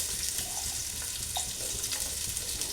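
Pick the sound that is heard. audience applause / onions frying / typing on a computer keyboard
onions frying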